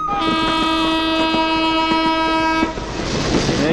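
A train rumbles past with a loud, sustained horn blast for about two and a half seconds, then rattling wheel noise continues alone.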